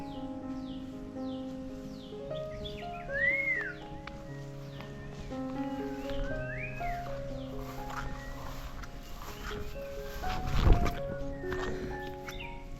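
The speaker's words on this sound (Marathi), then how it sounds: "पक्ष्यांचा आवाज" Several birds call from a distance in a quiet forest, scattered chirps and whistles over a faint background hum, with a louder thump near the end.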